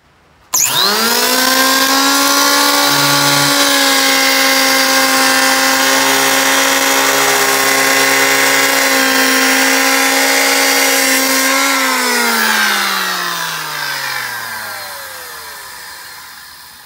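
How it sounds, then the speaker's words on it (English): A Makita N1900B electric hand planer starts with a sharp jump to a loud steady high whine as it runs on a scrap 2x4 held in a table clamp, holds for about eleven seconds, then winds down in a falling tone, no speech. "We've got the planer and we're going to give it a little test run."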